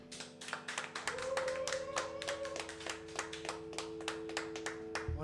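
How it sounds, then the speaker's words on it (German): Clapping at a lockdown concert session, a modest group of hands clapping in an uneven rhythm over a steady electronic hum, fairly close and moderately loud. "Einen fetten Applaus, die laufen jetzt hier mal durch."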